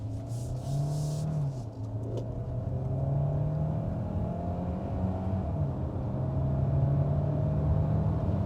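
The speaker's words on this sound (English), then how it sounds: "Let's put the car into sport mode. Maximum attack from the battery and motor." A 2022 Kia Sorento Hybrid in sport mode accelerates, heard from inside the cabin as a steady low engine and motor drone with a rising whir and road rumble, no talk.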